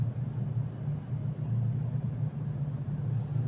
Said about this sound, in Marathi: हे बघा, गाड्या येत आहेत, जात आहेत